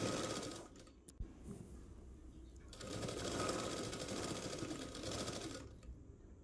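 A sewing machine stitching an umbrella dress runs in two bursts of steady, rapid needle clatter, separated by a short pause with a click, fairly quiet and up close.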